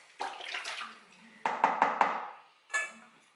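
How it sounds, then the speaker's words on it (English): A spoon stirs a strawberry and watermelon wine mix in a container, giving sloshing, swirling liquid sounds in three short bursts with quick rhythmic strokes in the middle. "just stir it in so it dissolves"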